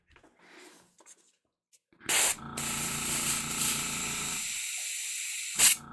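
An airbrush sprays primer onto miniature figures, a short puff followed by a steady close hiss lasting several seconds, then a brief louder burst at the end.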